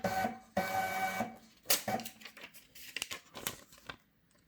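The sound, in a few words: Uni-7 scale printing a receipt in cash register mode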